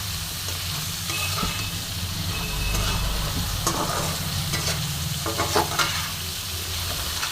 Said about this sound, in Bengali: এবার আমি এটাকে একটুখানি ভালো মতন ভেজে নেবো।